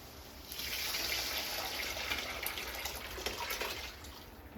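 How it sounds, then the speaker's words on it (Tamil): Tamarind water pours and splashes steadily into a pan for a few seconds, a soft continuous gush close by. "இப்போ வந்து இதில் புளி தண்ணி ஊற்றிக்கலாம்"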